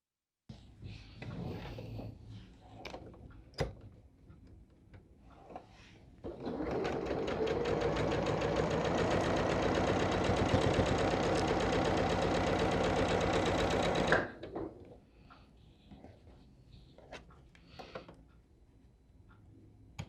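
Sewing machine stitching pieces of an Ohio Star quilt block, a steady close mechanical whir running for about eight seconds, framed by quieter handling and rustling before and after.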